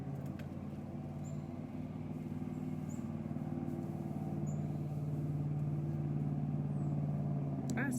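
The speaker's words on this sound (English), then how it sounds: "Yeah, Bubba's in a truck" A truck drives past outside a house, a steady low engine rumble that holds faint and distant throughout and swells slightly as it passes, with no talking.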